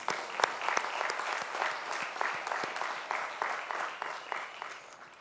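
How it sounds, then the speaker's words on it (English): Sustained applause from a crowd at a high school graduation ceremony, steady dense clapping with no voices, a few sharper claps standing out near the start. "Let's give ourselves a round of applause."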